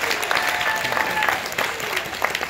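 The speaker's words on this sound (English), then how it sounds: "Give her a big round of applause" A crowd claps in a brief, lively burst of applause, with a faint whistle-like tone running through it.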